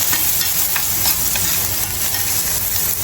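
Spring onions sizzle and fry steadily in a stainless steel pan over a lowered gas flame, a continuous close hiss with light crackle and faint stirring, no voices.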